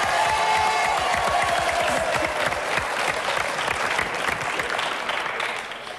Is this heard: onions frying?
no